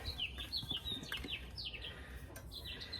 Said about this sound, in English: you can hear those birds.